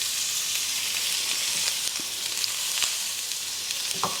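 Seasoned steak sears seasoned side down in a very hot pan for blackened steak, giving a loud, steady sizzle with scattered small pops and crackles and no voices.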